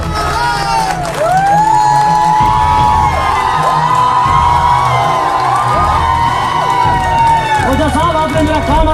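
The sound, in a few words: audience applauding a poetry recital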